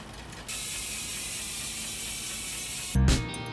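Rapid, continuous ratcheting buzz from the freewheel of an Industry 9 1-to-1 rear hub on a Niner Rip RDO mountain bike as the wheel coasts, close and steady, ending with a short louder clunk.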